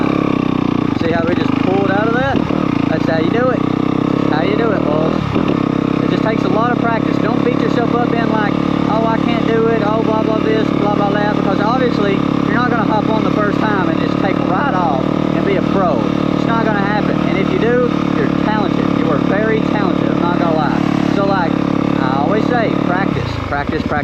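A dirt bike engine revs loudly and steadily as the rider pulls away, its droning note rising and falling with throttle changes and running without a break from start to finish.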